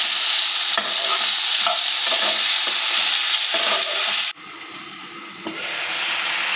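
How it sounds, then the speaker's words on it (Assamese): Dhekia fern greens with outenga and salt stir-fry in a pan, loud sizzling with repeated scraping stirs, then the hiss drops suddenly and settles softer. "নিমখ দি অলপ সময় ভাজি ল'ম"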